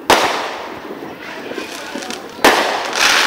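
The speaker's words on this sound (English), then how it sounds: "Here's some more fireworks" Fourth of July fireworks burst nearby, two sharp loud explosions with crackling fizz trailing between them, heard outdoors at close range.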